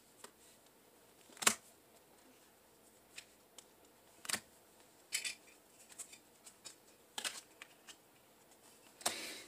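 Tarot cards handled at a reading table, with soft scattered clicks and snaps of cards being pulled, flipped and laid down, quiet and close with irregular spacing and no talking.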